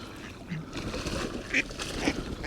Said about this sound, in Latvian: Ew, pīles.